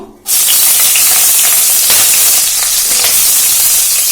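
Whole spices and split green chillies hit hot mustard oil for a vegetarian dal, a sudden loud burst of sizzling that settles into a sustained dense hiss and crackle, close up with no voices.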